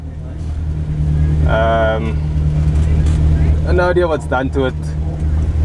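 The 8-valve Mark 1 Golf engine idles at a drag race at Killarney as a steady, close low rumble, while people talk over it.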